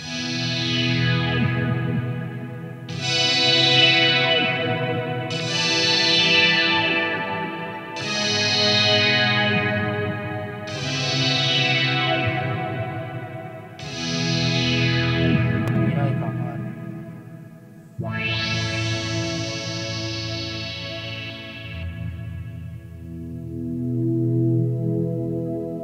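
Electric guitar run through a board of quirky effects pedals, giving loud, heavily processed distorted chords with chorus and echo, struck in repeated bursts that ring out and then decay, with a longer sustained chord near the end.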